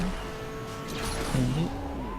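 Savage Rivale GTR drifting on asphalt in the Asphalt 8 racing game, a steady engine drone with a brief rising tire squeal midway, alone at moderate loudness.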